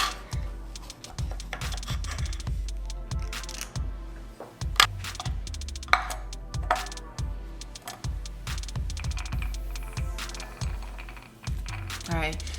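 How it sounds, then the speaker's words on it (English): Papaya being chopped for a homemade face mask: repeated knife strikes on a cutting board in a steady, irregular rhythm, close and fairly clear, with no talking. "we're going to cut up this papaya and put this in our DIY face mask"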